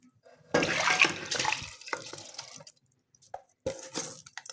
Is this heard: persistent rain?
no